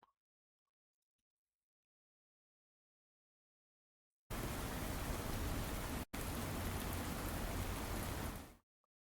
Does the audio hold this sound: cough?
no